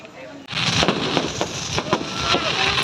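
Fireworks go off before an endurance ride event in Pangasinan, a dense rumbling barrage of bursts and crackles that begins abruptly and continues loud and close, with speech faintly mixed in.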